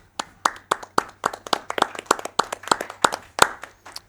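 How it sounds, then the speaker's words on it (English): About a dozen sharp, separate hand claps ring out close by in a quick, uneven rhythm after a Mario Con 2023 semi-final match in Iceland, a small group rather than a big crowd. "Round of applause."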